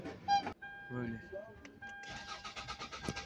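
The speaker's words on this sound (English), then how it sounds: "Now it's running the car." A 2006-2012 Toyota Camry engine cranks briefly and catches, then settles into a steady running idle with rhythmic pulsing, beneath a beeping tone and a person talking.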